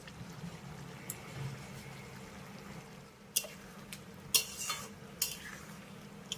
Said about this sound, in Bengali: একবার নেড়ে চেড়ে মিশিয়ে নিলাম